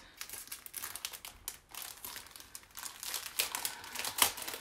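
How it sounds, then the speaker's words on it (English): Paper lemon transfer sheet being cut apart, close crinkling and rustling with irregular bursts of snipping and handling noise, quiet and alone without speech. "And let's cut apart our lemons."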